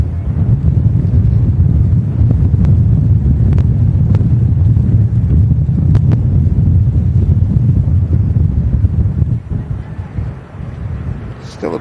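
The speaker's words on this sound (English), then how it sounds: "Still a bit of a slight blustery breeze up here. Yeah, I was going to say. We could hear it in the mic." Blustery wind buffets a microphone outdoors at Manchester Airport, a loud, constant low roar with rumbling gusts that eases near the end.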